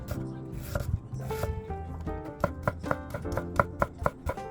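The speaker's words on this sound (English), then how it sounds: "Dice them finely so they blend into the mix without overpowering each bite." A knife dices onions for meatloaf on a cutting board, starting as irregular taps and settling into steady, rhythmic chopping that grows crisper toward the end.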